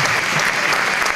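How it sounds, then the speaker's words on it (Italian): Dense, steady applause from a large audience at an end-of-courses celebration, continuous and loud throughout the short stretch with no pauses or voices rising above it. "quindi fatevi un applauso perché siete veramente tanti"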